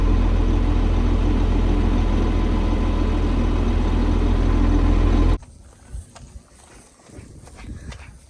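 A John Deere 4450 tractor engine runs loud and steady for about five seconds, then cuts off abruptly, leaving faint rustling and thuds.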